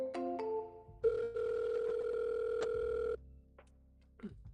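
A telephone call rings out through a handset as a steady electronic ringback tone with a short pause, cut off before the line switches over to voicemail, with no talking over it.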